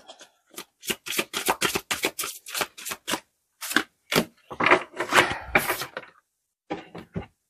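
Tarot cards shuffled and drawn by hand during a reading, a rapid series of crisp riffling flicks and slaps at close range, with short pauses and a few final taps.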